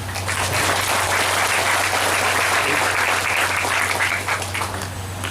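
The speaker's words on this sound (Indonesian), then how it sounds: "Tepuk tangan untuk kita semuanya." Steady audience applause fills the hall at a parenting seminar in an Islamic boarding school in Palembang, dense clapping over a low constant hum, tapering slightly at the end.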